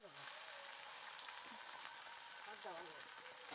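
Khalshe fish, rubbed with salt and turmeric, fry in hot mustard oil in a kadai, giving a soft, even, continuous sizzle with faint crackles and no talking.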